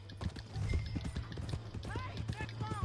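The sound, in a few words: horse hooves in a PS4 video game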